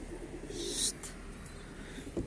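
Pigeons give faint, low coos over quiet outdoor background noise, with a few soft rustles and short bursts of movement.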